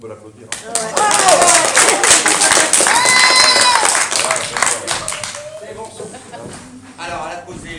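An audience at a magic show claps for the magician's assistant, a burst of applause mixed with speech and excited voices that fades toward the end.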